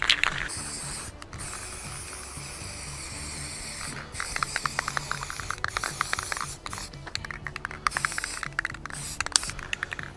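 A nearly empty Rust-Oleum enamel spray paint can hisses in repeated bursts, with pauses, clicks and rattles of the can between sprays, close by, painting a jon boat.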